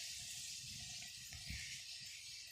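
Faint, steady gurgle of irrigation water flowing along a channel into a grass field on a goat farm, continuous with no voices.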